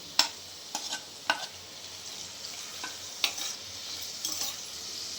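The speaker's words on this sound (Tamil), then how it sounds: "இப்போ அதை வதக்க போகிறோம்" Chopped vegetables sautéing in a pan for a meal maker and green pea gravy, with a steady soft sizzle and several sharp scraping stirs of a spoon against the metal, close and without speech.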